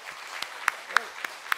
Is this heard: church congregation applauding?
yes